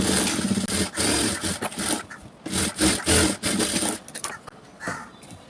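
Scissors slice away extra blouse fabric in a straight line, steady rhythmic rasping strokes repeating close by with no talking.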